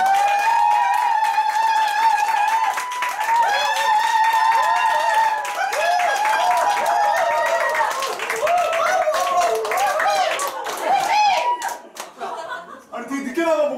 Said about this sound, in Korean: 앞으로 오실 때 큰 박수 부탁드립니다.